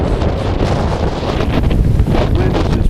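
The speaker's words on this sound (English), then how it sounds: "wind is just pounding." Strong wind pounds during a heavy winter snowstorm, buffeting the microphone in a constant loud, rough roar with gusts swelling and fading.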